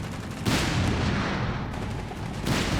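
Tank cannon fire from a Churchill and a Panther in the World War II strategy game Company of Heroes 3 booms heavily in dense, overlapping bursts, loud and rumbling with sustained reverberant blasts.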